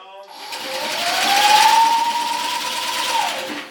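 A generator powering the charger for an XAG agricultural spraying drone starts up close by. A rising mechanical whine climbs and then holds steady over a rough running rattle, filling the short moment without pause.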